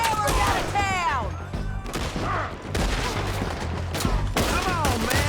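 Bursts of gunfire in a Red Dead Redemption 2 shootout, loud repeated shots and booms with ricochet whines, under a voice shouting encouragement.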